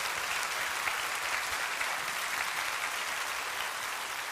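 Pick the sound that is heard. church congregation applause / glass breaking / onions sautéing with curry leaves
church congregation applause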